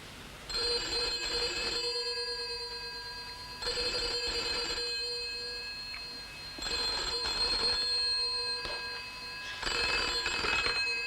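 A 1960s telephone rings in four long electric bell bursts with pauses between them, heard as if through the earpiece after a number is dialled, fairly faint and with no voices.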